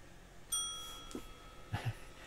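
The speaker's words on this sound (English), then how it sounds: "That was a solid bell hit." A cat strikes a small bell, giving one clear ringing ding that decays slowly, followed by faint soft knocks and rustles nearby.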